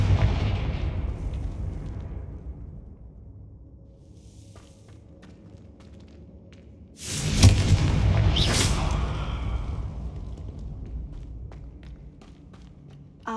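A Confringo blasting spell from Hogwarts Legacy bursts loudly around the seven-second mark, a broad crackling blast that flares twice and then trails off into a long rumbling tail over low background ambience.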